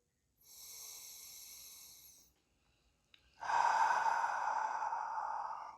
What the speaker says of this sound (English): You can ask them to take a couple deep breaths here.